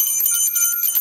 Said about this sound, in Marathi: बंद रे घंटा.